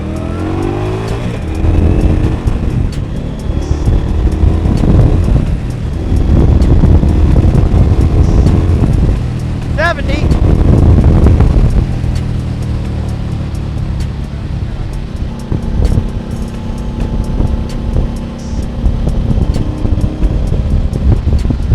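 An Indian Scout motorcycle accelerates on a road ride, engine rumbling loudly through repeated surges and gear-driven rises and falls, with constant wind noise heard from the rider's position.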